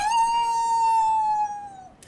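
A person imitates a werewolf howl with one long, steady, drawn-out tone that slowly falls at the end, close and clear, followed by a brief quiet tail.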